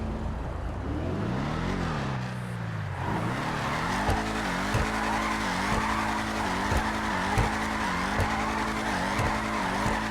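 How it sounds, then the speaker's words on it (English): A Vapid Dominator ASP muscle car in GTA spins donuts, its engine droning loudly and shifting pitch alongside continuous tire squeal, with occasional sharper revs as the skid carries on throughout. "Vehicle is very good at doing donuts"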